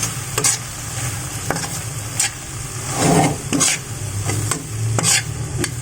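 Sisig with pepper sizzles steadily in a hot pan while a utensil stirs it, scraping and clinking against the metal in irregular strokes close by, with no talking.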